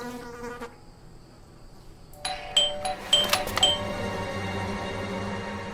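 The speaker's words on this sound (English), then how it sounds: "I thought I should use the doorbell so I wouldn't startle you." A doorbell rings in the detective video game Blues and Bullets: a short run of bright, chiming tones, fairly loud and clear over a quiet background, with no talking.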